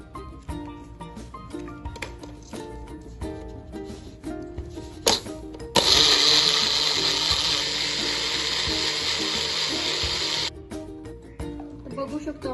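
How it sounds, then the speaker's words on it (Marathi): A mixer grinder blends mango mastani made with ice cream, milk and sugar: a loud, steady whirring roar that surges in for about five seconds between quieter clattering mechanical passages. "2 मिनिटांसाठी आपण हे सर्व मिक्सरला छान फिरून घेऊया।"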